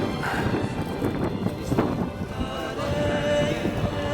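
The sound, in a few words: wind on a mountain summit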